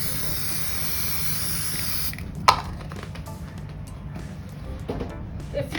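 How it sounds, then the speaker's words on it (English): An aerosol can of spray varnish is sprayed onto dot-mandala tea light candle holders in a continuous close hiss that cuts off after about two seconds, followed by quieter handling clicks and taps. "I'm going to use this spray varnish."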